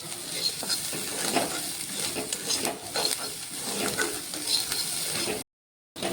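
Onions sizzling and frying in an iron pan with occasional stirring scrapes, steady and close, then a brief cut to silence near the end.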